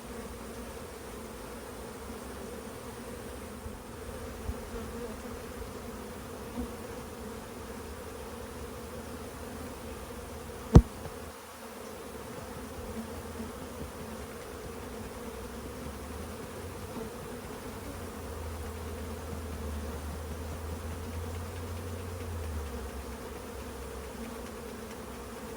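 Honeybees buzz steadily at an open hive during a powdered sugar varroa mite treatment, a continuous close droning hum with one sharp knock partway through and low rumbles of handling.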